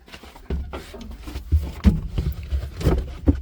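The engine of a John Deere 4240 tractor cranks and sputters into life, with rough, uneven low-pitched bursts building over a few seconds at close range.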